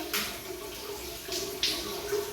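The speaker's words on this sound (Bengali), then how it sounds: "তুলতুল জল নিয়ে খেলা করছে" A small child splashes and plays with water at bath time at home, with soft intermittent splashes and a few brighter sloshing bursts over a steady background of running or moving water, close by and moderately quiet.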